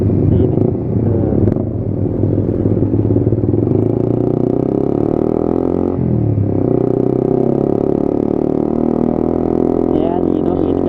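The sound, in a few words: motorcycle engine during clutchless gear shift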